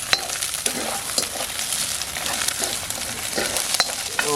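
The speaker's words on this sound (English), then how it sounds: "You cook the egg first, like so." An egg fries in a pan over a CampQube firepit, giving a steady close sizzle with crackling pops and occasional scraping stirs, with no voices.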